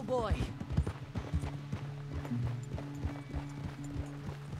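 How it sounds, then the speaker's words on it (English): Horse hooves clopping at a slow, uneven pace in the Red Dead Redemption 2 epilogue, with a whinny and snorting breaths near the start, close and moderately loud over a steady low tonal hum, with no talking. "He may get bucked off his horse."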